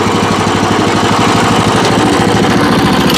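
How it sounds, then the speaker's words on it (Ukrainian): A WEIMA WM900M-3 walk-behind tractor's engine runs loud and close as the machine moves off in first gear, giving a steady, chugging mechanical drone with a rapid pulsing beat and no talk. "Вмикаю першу і ось так починаю рухатись."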